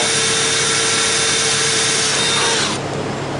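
A power drill bores new holes in a radiator mount, giving a loud, steady, close grinding whir that holds for almost three seconds before easing off.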